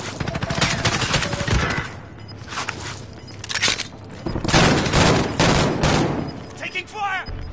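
Gunfire in a war video game, dense volleys of rapid shots rising and falling in bursts, loud and close, with voices speaking over parts of it.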